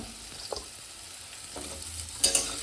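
Pumpkin stirred into a pan where potato has been frying in oil, giving a soft, steady sizzle with a few scraping stir strokes and a brighter burst of frying near the end, no voices.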